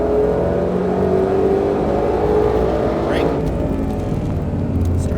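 A Mustang Shelby GT500 accelerating on a race track, its steady engine roar running throughout with a brief rising whine partway through, while a voice talks over it.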